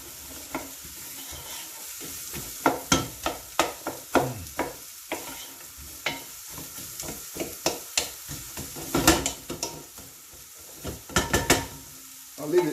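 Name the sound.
spices frying and being stirred in a pot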